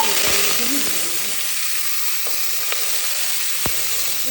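Bitter gourd fries in hot oil with cumin seeds and chili, giving a steady close sizzle throughout with a few faint scraping clicks from stirring.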